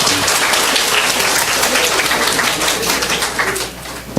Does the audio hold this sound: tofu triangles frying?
no